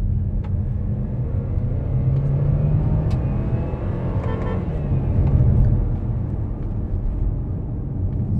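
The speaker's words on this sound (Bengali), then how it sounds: "ভালো অ্যাক্সেলারেশন, বেশি ভালো লাগতেছে যে গিয়ার পড়তেছে" A 2025 KGM Torres SUV in automatic mode accelerates at full throttle. Heard from the cabin, the engine holds a steady low rumble that swells as it pulls through gear changes, with no one talking.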